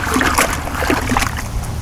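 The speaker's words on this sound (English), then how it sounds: "Now you could just sit here with your hand and stir it around" A hand stirring pool filter sand through aquarium water, giving close, quick splashing and sloshing that continues without pause for about two seconds.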